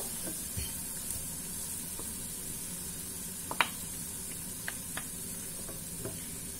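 Rice vermicelli frying in a pan as tuna is added, giving a steady close sizzle with a few light clicks and scrapes from a utensil, and no voices.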